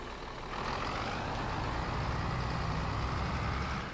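A truck in the farming game Farming Simulator 22 drones steadily with a low engine rumble, getting slightly louder after a brief start and holding at a constant level throughout.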